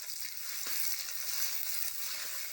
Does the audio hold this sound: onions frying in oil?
yes